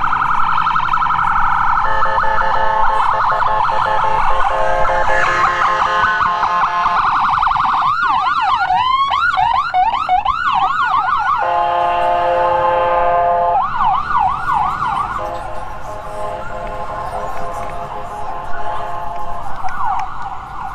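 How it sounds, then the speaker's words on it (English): An ambulance siren wails loudly and continuously, sweeping up and down and shifting between wail and faster yelp patterns as the vehicle passes close by on a spring break street in Daytona. "Ambulance."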